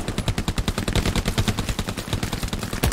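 Rapid, sustained machine-gun fire in the World War II shooter Hell Let Loose, loud and close, a dense, steady stream of shots with no talking.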